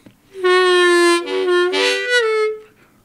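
A low harmonica note played with accidental bending from a constricted throat, a loud sustained reedy tone with wavering pitch across a few breaths, heard alone.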